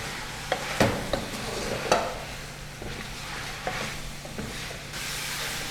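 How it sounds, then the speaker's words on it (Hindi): Mutton and spices being stirred in a pot, with close scraping strokes and several sharp clacks of the spoon against the metal over a low, steady sizzle, no voices. "अब हम इन तमाम इंग्रेडिएंट्स को अच्छी तरह से मिक्स कर लेंगे"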